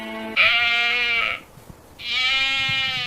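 Two loud, close sheep bleats, each about a second long, separated by a short quiet gap.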